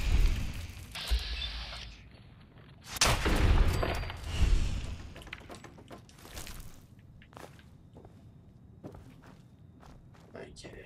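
Gunfire in the video game Fallout 4 comes as a few sharp bursts around the third and fourth seconds, mixed with footstep sounds and someone talking over the game.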